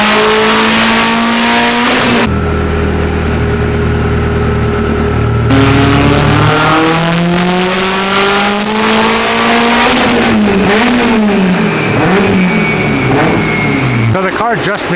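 A Subaru STI on E85 fuel revs hard on a dyno, its turbocharged engine climbing in loud sweeping pulls with sharp drops between them, close and dominant, with voices talking under it.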